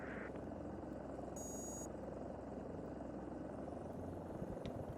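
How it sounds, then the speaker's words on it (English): A Robinson R44 helicopter engine warms up on the ground at an airfield ramp, a steady loud droning rumble that holds constant throughout with a brief high whine above it. "we'll let the helicopter warm up a little bit here"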